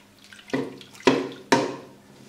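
Garlic water goes into a beef karahi in three separate splashy bursts, each striking sharply and then trailing off, loud and close with no talking.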